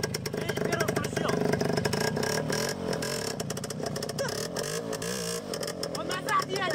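A Voskhod motorcycle engine runs with a rough, clattering idle and uneven revving in first gear, close and loud, while excited voices talk over it.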